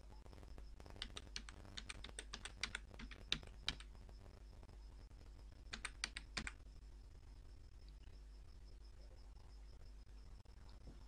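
Quiet, close keystrokes on a computer keyboard while an online railway recruitment form is filled in, in two short bursts of rapid typing with a soft background hum.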